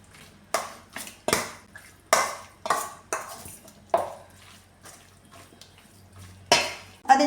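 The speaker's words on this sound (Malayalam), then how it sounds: "ഇനി ഇതെല്ലാം കൂടെ നന്നായിട്ടൊന്ന് മിക്സ് ചെയ്യാമേ" Fish being mixed by hand with turmeric and chilli powder masala for Kerala-style fish pickle, a run of sharp clinks and scrapes against a metal bowl coming in uneven bursts, close and distinct, with quiet gaps between strokes.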